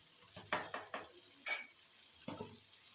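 Tomato, salt and ginger-garlic paste stirred in a pan, a handful of soft scraping strokes and faint clinks of a spoon against the pan, quiet and close, with a low sizzle beneath.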